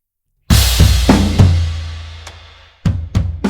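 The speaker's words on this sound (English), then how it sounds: "let's take a listen to these drums" Booming, reverberant taiko drum hits ring out together, deep and loud, struck in a loose sequence with a long decay before a few final heavy strikes.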